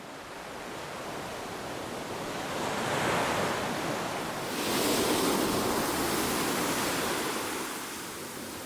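Steady roar of surf washing in at Red Beach, Santorini, with wind buffeting the microphone, swelling louder mid-way; no voices, just continuous broadband noise.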